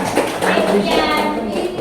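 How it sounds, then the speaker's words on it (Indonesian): Schoolchildren in an Indonesian classroom clapping for a group, a burst of close, sharp hand claps mixed with kids' voices talking over it. "tepuk tangan dulu buat kelompok"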